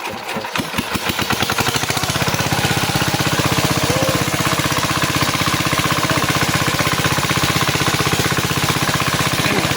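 A motor-driven machine used for catching fish in mud starts up with a few rapid chugs and settles into a loud, steady, close engine drone that runs unbroken to the end.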